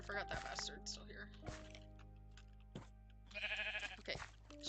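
Minecraft sheep bleating in a few short, distinct calls among game sound effects, fairly close and clear.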